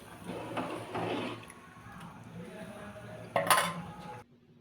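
A cooking pot of kadhi khichdi is closed with a lid in one short clink and clatter near the end, following softer kitchen handling noises.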